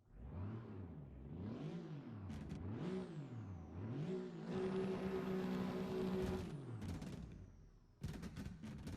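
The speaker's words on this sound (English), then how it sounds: "AMG rumbly V8 and all the kind of poppy backfires and stuff like that" A Mercedes-AMG GT Black S V8 in Assetto Corsa revs up and down in rising, falling sweeps, then holds a high drone before sharp popping backfires crackle at the end; no one speaks.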